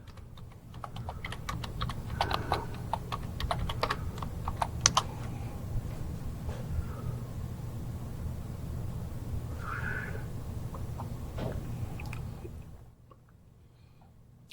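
Steady keyboard typing at a computer while entering a search, with rapid close clicks and keystrokes running continuously for about twelve seconds before stopping into quiet.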